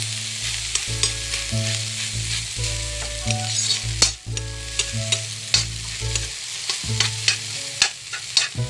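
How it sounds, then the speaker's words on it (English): Scrambled egg with scallions stirred in as it fries, close continuous sizzling with regular spatula scrapes and taps, over a steady low humming tone in the background. "Then add the scallions and stir it gradually."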